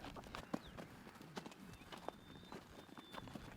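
Faint, uneven clip-clop of horse hooves on a hard surface, several irregular knocks against a soft background hum.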